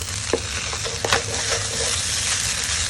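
Tofu fried rice tossed and stir-fried on high flame in a pan: a loud, continuous close sizzle broken by a couple of sharp scraping clanks from the tossing.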